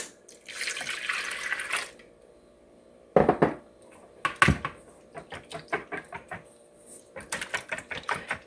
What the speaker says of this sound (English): See how nice the quiet whisk is?